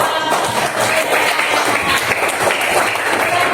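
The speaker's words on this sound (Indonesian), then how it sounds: "Beri tepuk tangan untuk" Students in a classroom clap for a presenting group, a dense, steady patter of many hands that fills the whole stretch at close range.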